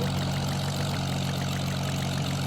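A heavy engine runs steadily at high power, a dense continuous drone with a strong low hum and a faint rhythmic throb, loud and unbroken throughout.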